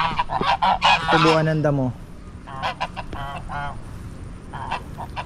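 Several geese give loud, harsh honks in quick bursts close by, mixed with someone speaking in a farmyard.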